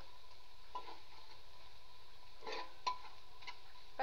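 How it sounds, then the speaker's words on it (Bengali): Ginger and garlic spice paste fries quietly in a pan, a faint steady sizzle broken by a few soft spatula stirs and scrapes. "মশলাটা আমি ভালোভাবে ভাজা ভাজা করে নিচ্ছি যাতে আদা রসুনের কোনো কাঁচা গন্ধ না আসে।"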